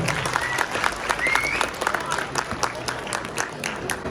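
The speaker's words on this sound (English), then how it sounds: "round of applause for putting this together" An audience claps for the 2025 middle school Science Bowl event. The applause is dense and crackling, with distinct individual claps over a steady crowd wash, moderately loud, and a few voices murmur underneath.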